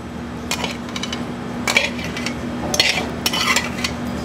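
Metal utensils clink and scrape against dishes as gnocchi is plated in a pizza restaurant kitchen, several sharp clusters of clatter over a steady low hum.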